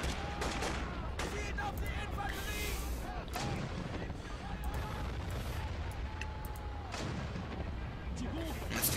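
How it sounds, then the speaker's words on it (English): Artillery guns firing in Men of War: Assault Squad 2, a dense, continuous battlefield barrage of heavy booms and blasts with no pauses, loud and layered, with voices faintly mixed in. "At least the guns are going to continuously fire off till we've turned that place into scrap metal."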